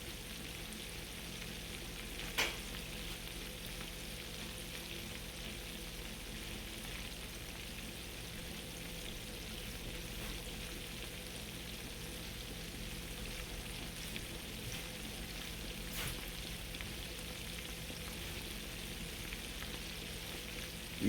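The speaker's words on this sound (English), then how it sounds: "make sure you're allowing that fish to cook good on one side" Farm-raised catfish fillets frying in a pan, a faint steady sizzle with soft crackles running throughout and an occasional light knock of a utensil, no talking.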